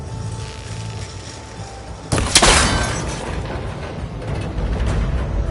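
A cable connector in the video game Horizon Forbidden West is shot and breaks apart with one sudden loud crack and shattering burst, followed by a short clattering decay over a steady background hum.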